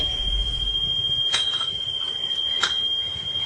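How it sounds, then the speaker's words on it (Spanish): A high-pitched, almost electric screech recorded outdoors in Victoria, Canada, heard as a steady whine throughout with two brief louder bursts standing out over a constant background hiss. "el sonido es de una alta frecuencia, es un chirrido casi eléctrico de una intensidad"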